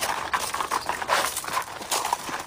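Horses walk along at a steady pace, hooves clip-clopping in an even rhythm close by, with no talking over them.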